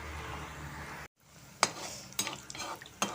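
Chicken cutlets frying in oil in a pan, a steady close sizzle broken by a short gap, with sharp clinks and scrapes of a utensil against the pan over it.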